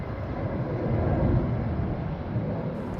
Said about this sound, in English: That's why I get all that lovely airplane noise.